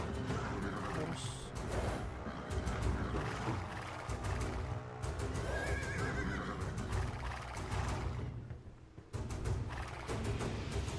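Horses neigh and whinny repeatedly in the Age of Empires II game amid clattering hooves and game effects, with a person talking over the action.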